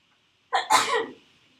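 A single sharp sneeze, close and loud, with a quick intake before the burst and then silence.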